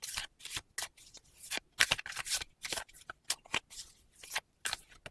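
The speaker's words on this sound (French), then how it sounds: "Je vais prendre 4 cartes de ce jeu-là." Close, crisp riffling and flicking of a deck of playing cards, a quick run of sharp papery snaps and brushes in uneven bursts.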